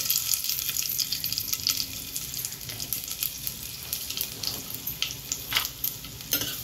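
Mustard seeds, cumin and asafoetida sputter and sizzle in hot oil for a Konkani-style chickpea, potato and drumstick curry, a steady crackling hiss with scattered sharp pops and occasional stirring scrapes, close and alone.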